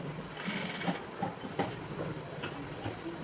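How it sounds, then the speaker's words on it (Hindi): A sewing machine stitches elastic onto a palazzo waistband, a quick rhythmic clatter of needle strokes with faint clicks, moderately quiet and close. "अब हम लास्टिक को अटैच करेंगे तो पहले हमें इस लास्टिक को यहाँ से इसके ऊपर ऐसे रखना है यहाँ से और हम यहाँ पे सिलाई लगा देंगे"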